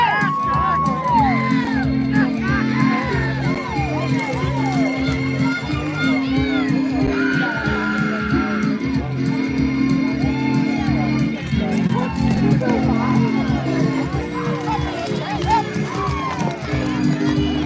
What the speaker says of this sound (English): If you hear if you really hear the crowd, they're yelling at them anyway, and they think that that's cheering.